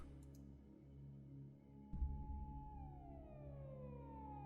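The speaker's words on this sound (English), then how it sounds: "I could faintly hear police car sirens in the distance" Faint police sirens wail in the distance in the Steins;Gate 0 video game, a slow falling tone over a low steady hum and a soft thump, with no speech.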